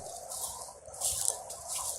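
A pheasant used in German Shorthaired Pointer training gives harsh, raspy cackling bursts outdoors, the loudest cluster midway, over a faint steady background with no voices.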